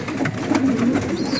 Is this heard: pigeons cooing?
yes